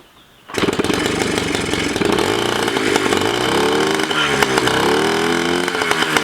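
A Yamaha QT50 scooter's small two-stroke engine catches and runs loud and close, a buzzy, raspy idle with wavering revs that continues steadily after starting.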